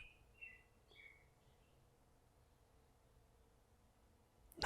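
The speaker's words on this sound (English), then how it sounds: "I hear the birds chirping." Small birds chirp outside a garage: a few faint, high tweets in the first second or so, then near quiet with low background hum, and a brief loud knock right at the end.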